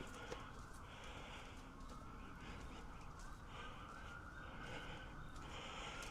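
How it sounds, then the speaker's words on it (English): Distant emergency sirens wailing faintly through continuous outdoor street background noise in Hollywood, Los Angeles, steady and far away with no speech. "We do hear the sirens. There are a lot of sirens behind us."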